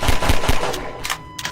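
Rapid automatic gunfire in Half-Life 2, a few loud close shots at the start that trail off into quieter scattered sounds, with no talk.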